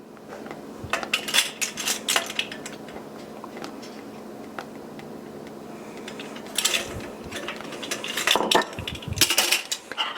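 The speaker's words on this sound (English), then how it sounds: "Gonna stir that in really good." A spoon scrapes and clinks around a pan while vanilla is stirred into homemade chocolate pudding, with scattered taps early on and busier bursts of metal-on-pan clatter near the end, no talking.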